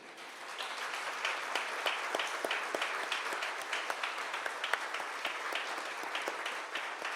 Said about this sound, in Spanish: ¿Cuánto le puede dar un aplauso al Señor por eso?